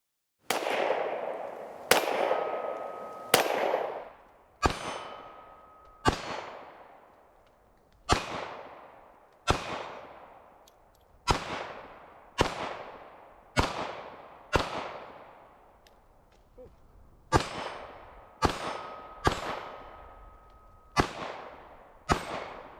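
A KelTec PMR30 pistol fires a full magazine at an outdoor range, about sixteen sharp, loud cracks at a slow, uneven pace, each with a brief decaying echo, and no talking between shots.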